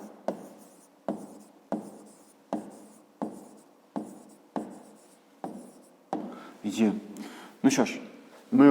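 Pen writing on paper while working a fifth grade math exercise, a series of evenly spaced soft strokes that turn into quicker, busier scratching near the end.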